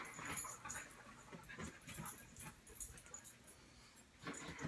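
Dogs at a house make soft panting, snuffling and small whimpering sounds close by, mixed with rustling movement throughout.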